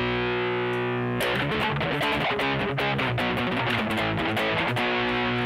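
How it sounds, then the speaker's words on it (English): An electric guitar runs through a distortion effect programmed on a Sigma DSP ADAU1452, a sustained fuzzy chord followed by a busy run of loud, gritty notes, with no talking. "Typical distortion of a pedal"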